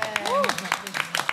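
Audience clapping in sharp, scattered bursts at an event honouring a zouk singer, under a presenter's voice that carries over the applause.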